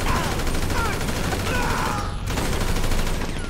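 Dense, rapid gunfire crackles continuously in bursts in Grand Theft Auto 5 Online, like a sustained firefight, loud and unbroken with no pauses.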